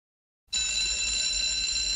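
A bell rings out sharply after half a second of silence and keeps ringing steadily and loudly to the end, bright and sustained like an electric school bell, with no talk over it.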